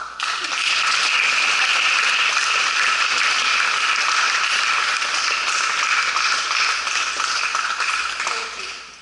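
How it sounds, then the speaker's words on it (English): Steady applause from a piano recital audience, a dense wash of clapping that holds for several seconds before tapering off at the end. "please clap"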